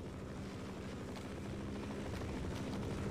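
A helicopter's rotor thrums steadily at a distance in the video game Half-Life, a faint, continuous low chop with no other sounds.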